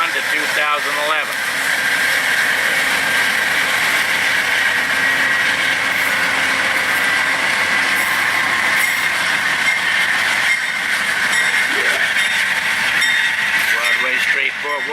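Amtrak Heritage locomotive number 156 rolls past at close range, a continuous loud rumble with wheel clatter and a steady high whine filling the whole stretch.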